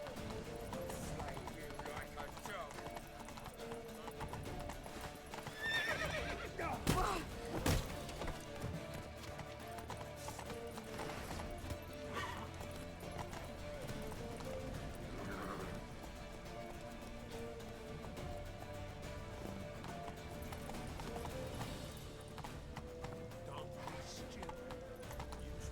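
Horse hooves clip-clop and a horse whinnies in The Witcher 3, set among game music and ambience, fairly quiet with a few louder bursts partway through.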